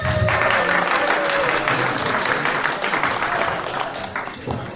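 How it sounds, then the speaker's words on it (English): Sustained audience applause at an outdoor Coding Under the Stars showcase as the crowd votes for a favorite team, dense steady clapping filling the space and tapering slightly near the end, with faint voices mixed in. "if those were your favorites, please clap."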